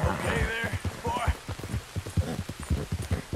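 Rain falling in a Red Dead Redemption 2 game scene as a horse is ridden, a steady soft hiss under rhythmic hoof clip-clops, with a voice speaking briefly near the start.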